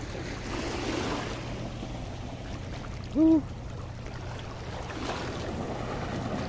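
Sea waves wash steadily onto a shore where shellfish are being gathered, a constant broad surf rush with wind across the microphone and a brief louder tone midway.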